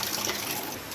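Cut tapioca pieces are washed in water, a loud, close rush of running water splashing steadily with a slight fade toward the end.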